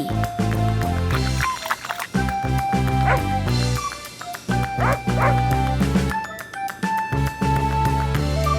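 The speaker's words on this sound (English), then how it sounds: "Puppy." A dachshund puppy gives a string of yips and barks over busy, loud background music, the calls quick and repeated throughout.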